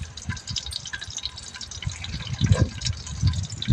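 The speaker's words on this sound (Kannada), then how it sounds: "ಇವಾಗ ಎಣ್ಣೆ ಒಳಿಕೆನೆ ಈರುಳ್ಳಿ ಹಾಕ್ತಾಯಿದ್ದೀನಿ." Onions dropped into hot cooking oil crackle and sizzle with a steady, wet hiss and scattered pops, growing louder toward the end, with no talking.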